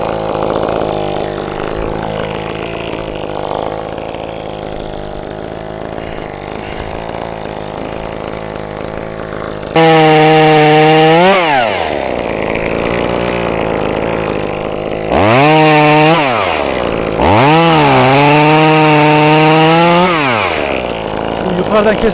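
A chainsaw cuts a branch on a walnut tree, first idling steadily, then revving up loudly in repeated rising and falling surges as it bites into the wood, close by with no speech.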